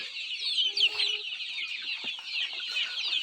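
Four or five naked-neck country chickens cluck on a rural farm, several short calls rising close by over a steady bright background of chirring insects and birds.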